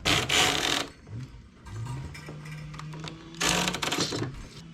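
A knitting machine carriage knits a row of plain stitch for a lace cuff, giving two loud, rattling mechanical sweeps with a quieter whirring stretch between them.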